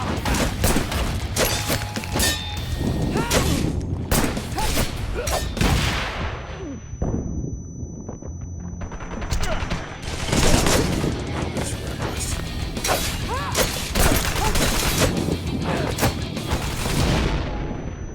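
Gunfire and grenade explosions in the action video game Wanted: Dead: loud, dense bursts of shots and crashing blasts roll on almost without pause, with a brief lull in the middle before the firing surges again.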